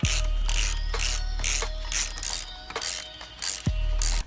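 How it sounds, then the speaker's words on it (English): A hand ratchet clicks in quick, loud, regular bursts up close while undoing the motor mounts on a Yamaha DT175 enduro engine, with short pauses between strokes. "In the meantime, I think I'm going to undo the motor mounts."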